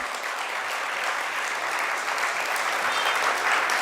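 Dense, steady applause from a congregation during a Jain monk's sermon, honouring devoted community members; loud and continuous throughout, with no voice heard over it.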